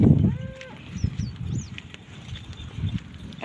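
A cow gives a brief low moo at the start, followed by scattered faint bird chirps and outdoor background noise.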